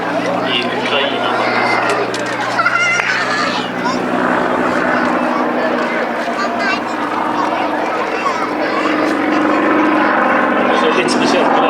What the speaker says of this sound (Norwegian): Det er en flytype som er bygd for veldig hissige akrobatikk